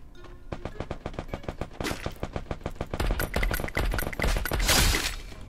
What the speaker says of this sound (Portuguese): Tem uns caras se atirando ali na frente.